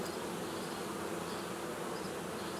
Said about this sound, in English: So many bees in here, they are quite crowded